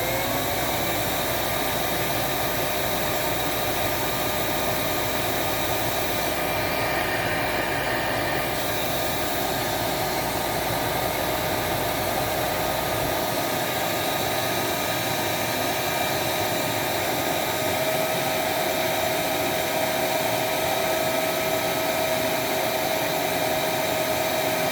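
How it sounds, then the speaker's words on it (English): Airflow rushes from the end of a Dust Care Evolution 6709Z vacuum wand, a loud, steady whooshing roar with a faint motor whine, unbroken for the whole stretch and close to the listener. "But now let's take the airflow at the end of this wand."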